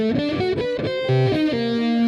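Electric guitar with distortion playing a finger-roll exercise across the top four strings, a short run of sustained, overdriven notes shifting pitch, loud and close with no voices.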